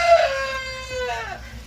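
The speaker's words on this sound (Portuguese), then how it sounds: "Esse é o galo do peito duplo. Nem parece, né, pelo canto dele." A double-breasted rooster on a rainy farm in Rio Grande do Sul crows once, a loud, drawn-out call that falls in pitch and stands alone against low background noise.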